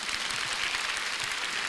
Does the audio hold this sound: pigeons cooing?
no